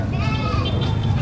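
Goats bleat at a livestock auction in Padre Garcia, Batangas, where cattle, goats and carabao are sold. Loud, close bleating carries over a low, crowded background.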